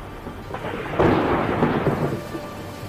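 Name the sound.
thunderstorm with rain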